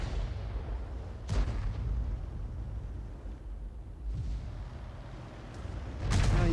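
A GW Panther self-propelled artillery gun fires in a World of Tanks match: a sharp boom near the start and another near the end, each over a steady low rumble of engine and battlefield noise.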